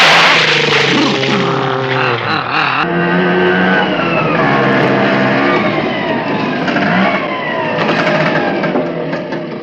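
An auto rickshaw engine runs loud and close, holding a steady drone with shifting revs throughout, while a voice is heard over it.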